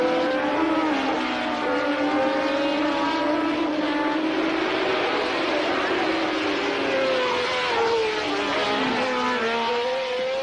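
Formula One race cars howl past at Brands Hatch during the British Grand Prix, several high-pitched engines rising and falling in pitch as they sweep by, moderately distant and continuous over crowd ambience.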